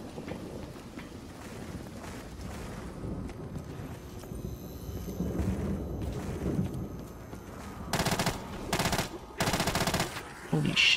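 Loud bursts of rapid automatic gunfire from a video game weapon cut in near the end, following a stretch of low rumbling game noise.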